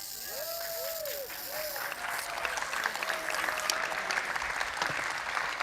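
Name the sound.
audience applause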